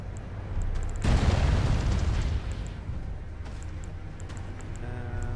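A jar cannon blast in Elden Ring Shadow of the Erdtree, one loud booming burst that rumbles and decays over a few seconds, followed by faint game effects and no speech.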